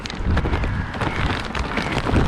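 Strong outdoor wind buffeting the microphone in bursts, loud and rough from start to finish with gusty low roaring and no voices.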